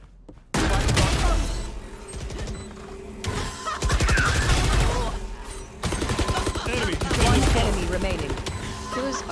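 Phantom rifle with the Protocol skin in Valorant firing several loud, close bursts of rapid automatic shots, separated by short pauses, with game background sound between them.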